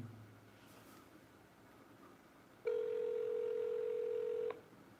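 A telephone ringback tone sounds once, a steady buzzing tone lasting about two seconds over faint background hiss, then stops.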